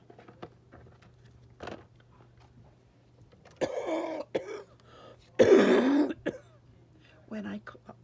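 Someone clears their throat and coughs in a few separate bursts, close and fairly loud, amid quiet rustling and a low steady hum.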